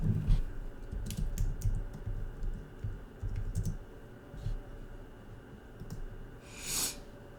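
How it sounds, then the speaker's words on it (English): Close, quiet bursts of typing clatter on a computer keyboard, uneven runs of key clicks with short pauses and no speech. "Let's type that in."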